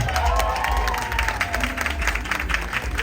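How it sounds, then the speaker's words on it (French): A crowd claps and cheers for Ariana, with lively mixed applause and a few shouts and voices, all close and energetic throughout the short burst. "Applaudissez s'il vous plaît pour Ariana"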